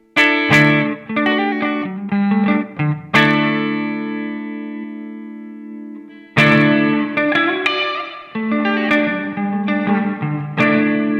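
Electric guitar notes and chords through a Nux MG-30 ring out with a long reverb tail, one chord sustaining and fading for several seconds before playing resumes.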